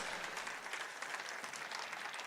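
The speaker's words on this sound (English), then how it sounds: "would you mind just giving every contestant a round of applause" An audience at a livestock auctioneer championship applauds the contestants, a faint, distant and steady patter of many hands that holds evenly for the whole stretch.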